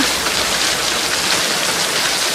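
Steady rain falls, a continuous dense hiss of drops with no clear individual impacts, fairly loud and close throughout with no voices.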